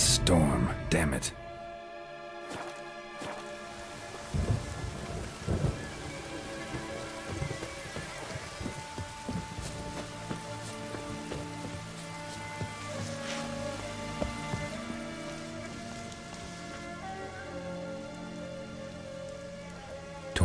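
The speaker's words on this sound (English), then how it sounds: "A storm, damn it." A rainstorm in The Witcher 3 spreads a steady wash of falling rain beneath layered game music and voices that talk throughout, with a loud burst at the start and the rain staying in the background.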